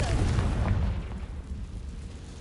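A Confringo spell explosion in a broomstick video game, a sustained loud rumbling boom that gradually fades out over a couple of seconds.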